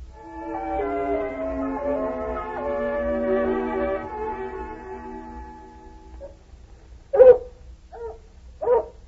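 A hound puppy whimpers and whines in a long, wavering high-pitched cry, then after a pause gives three short, separate yips or barks near the end, fairly close and alone.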